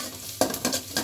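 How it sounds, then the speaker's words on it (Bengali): Onions frying in a pan for breakfast, a brief steady sizzle broken by a few sharp stirring scrapes and utensil clinks at close range. "এই প্রথমে আমি পেঁয়াজগুলো ভেজে নিচ্ছি"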